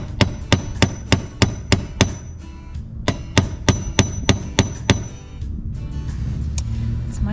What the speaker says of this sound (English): I'm just creating a little hammer hole right in the center.